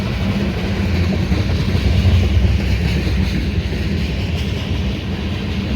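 A CSX ethanol tank car freight train, led by a CN locomotive in Aboriginal paint, charges up the Mt. Airy grade with a loud, steady, close rumble of engines and rolling cars throughout.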